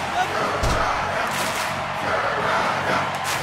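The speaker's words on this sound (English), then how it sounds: "starting to cheer for Alpizar, and he is going to need it" Wrestling crowd at a small house wrestling show roars steadily throughout, a dense wash of cheering with a few shouts and a dull thud near the start.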